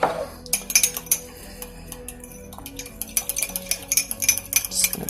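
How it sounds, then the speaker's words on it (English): A spoon stirring Danish topping mixture in a bowl, steady clinks and scrapes against the dish in an irregular rhythm, close and clear with no talking. "Now I'm just going to go ahead and get this mixed."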